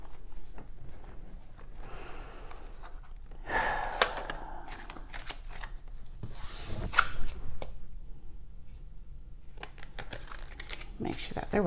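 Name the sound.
shuffling a deck of cards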